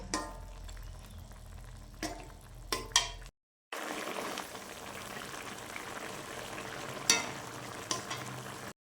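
Fish curry with mustard paste simmering in a pan, a soft continuous bubbling sizzle heard close up, with a few brief utensil clinks and a short drop to silence partway through.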